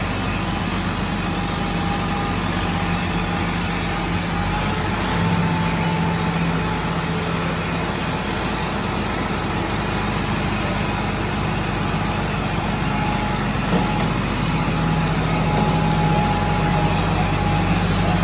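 Perotti 1014 high-extraction sugarcane mill with planetary drive, powered by a tractor's power take-off instead of its own motor, churns out a steady, loud mechanical drone with a low engine rumble throughout.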